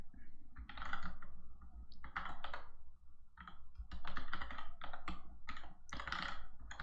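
A password is typed on a computer keyboard during a Solaris 11.3 install, quick close clicking keystrokes in uneven bursts with short pauses between.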